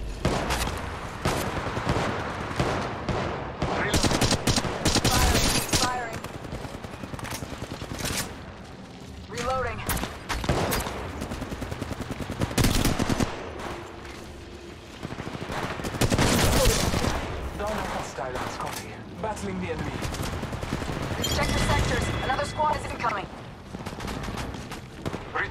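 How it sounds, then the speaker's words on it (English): Gunfire in the Apex Legends Mobile shooter game, repeated bursts of rapid shots and single cracks across the battle, loud and close, with a game character's voice calling out between volleys. "Firing."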